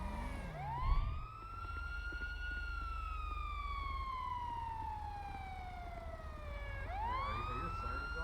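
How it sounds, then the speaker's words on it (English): A wailing emergency siren rises sharply, holds a long slowly falling tone, then swoops up again, sounding fairly close over a low rumbling engine with a brief thump near the start. "I hear sirens"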